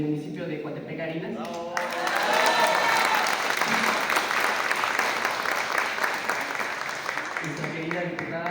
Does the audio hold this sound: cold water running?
no